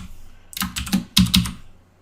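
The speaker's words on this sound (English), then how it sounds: "So what I'm doing is typing the IP address of the virtual machine into my web browser." Several quick keystrokes clatter on a computer keyboard as an IP address is typed into a web browser, crisp and close in two short bursts with no voices.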